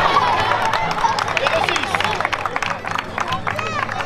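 A crowd at the Benevento Longobarda historical contest claps and cheers in a lively burst after a choreographed performance, with bright scattered applause and chatter filling the space.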